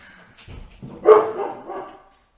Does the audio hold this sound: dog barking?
yes